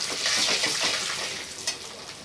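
Ingredients for shallow-fried bati being stirred and sautéed in a pan, a steady close sizzle with soft scraping and stirring strokes throughout, one brief sharper clink near the end.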